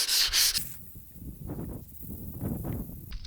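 Wet sanding of a car body panel with 400 grit sandpaper, heard as close, soft swishing strokes that rise and fall in a slow rhythm after a brief brighter hiss at the start.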